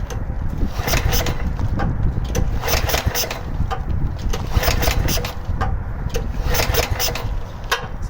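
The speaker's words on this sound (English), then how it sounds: "Go ahead and choke it up, see if it'll start." A John Deere GS30 small engine cranks over and over on choke without catching, a rapid uneven chugging that comes in repeated bursts, loud and close, with no speech.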